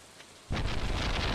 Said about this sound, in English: And it's raining, so this is great.